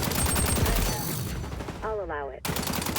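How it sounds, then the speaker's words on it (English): Rapid gunfire from a first-person shooter video game, dense and loud, with bursts of shots through the clip, a brief tonal game sound near the end, and excited player voices mixed in. "we are shooting right now"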